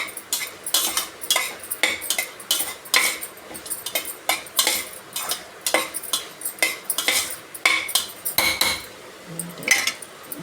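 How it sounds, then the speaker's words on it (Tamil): Onions and potato sautéed in a pan for chapati gravy, with a spoon scraping and clinking against the pan in quick irregular strokes, loud and close, no talking. "நல்லா வதங்கட்டும்."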